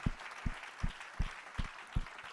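A church congregation at a consecration ceremony claps in a steady, even rhythm, with one sharp clap roughly every third of a second over a broad crowd wash and no talking.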